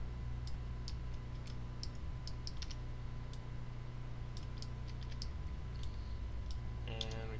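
Typing on a computer keyboard while setting up a level in a game editor: sparse, faint key clicks in small irregular bursts over a steady low hum, with a quicker run of taps near the end.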